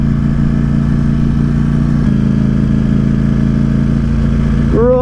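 A 2020 Ducati Streetfighter V4 S engine, still being run in, holds a loud, steady mid-pitched drone close by as the bike is ridden gently, with a brief pitch shift near the end.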